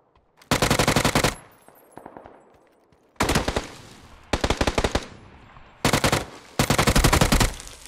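Automatic gunfire in PUBG, several loud bursts of rapid shots separated by short pauses, sharp and close, with no talk over them.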